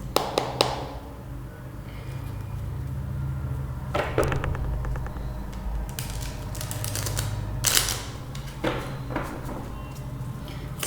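Tarot cards are shuffled and drawn by hand during a reading, making crisp, irregular tapping and riffling bursts over a steady low hum, with no one speaking.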